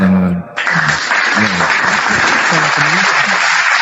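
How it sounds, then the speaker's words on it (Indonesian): Applause from an audience at a Christian religious talk, breaking out after a brief pause and carrying on steadily and loudly, with a voice speaking over the clapping. "tepuk tangan lagi"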